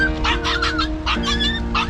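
A hungry stray puppy near train tracks gives repeated high, whiny yips and short barks, close and loud, in a quick uneven series with no talk.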